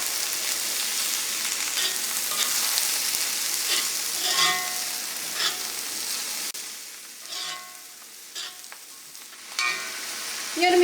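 Ivy gourd, grated coconut and salt are stirred together in a hot pan, giving a continuous soft sizzle broken by irregular spoon scrapes and light clatters against the pan.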